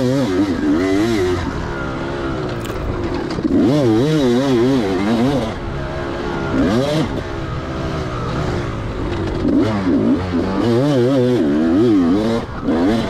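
A 2004 Kawasaki KX250 two-stroke dirt bike ridden at the Table Rock dirt park, its engine buzzing close and loud throughout with repeated rising and falling revs as the throttle opens and closes.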